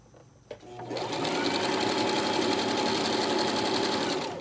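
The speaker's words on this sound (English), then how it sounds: "just sew straight down and unrolling it as you go to try to get your edges even" A sewing machine runs a long, continuous stitch through knit fabric for an infinity scarf, a steady close whirring drone that starts after a brief click and keeps an even pace without talk.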